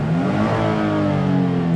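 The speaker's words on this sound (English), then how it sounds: "When it's idling, it's very, very quiet, and then it revs freely." A 2020 Nissan Frontier pickup engine, warmed up, revs loudly and steadily to over 6,500 RPM, its pitch holding a strong mid-range drone throughout, close by with no talking.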